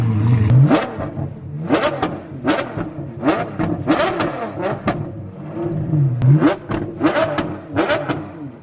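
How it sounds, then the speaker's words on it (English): An Apollo IE supercar engine starts up and revs repeatedly in sharp bursts, loud and close, with throaty roars rising and falling over several seconds. "I think we may get to hear the Apollo now start up."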